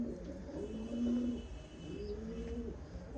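Soft, low pigeon coos repeat in gentle rolling phrases, several birds close by in a quiet room at a pigeon farm in Tarn Taran.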